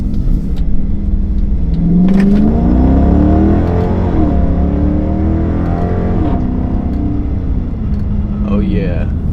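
A straight-piped 2022 Chrysler 300 S revs hard and loud from inside the cabin, its deep exhaust drone rising and falling through several pulls, with a voice talking over the engine.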